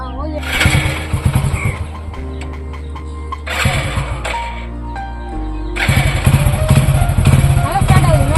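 A motor engine cranks and catches, sputtering into life in bursts before settling into a rough running rumble; people talk nearby over the engine.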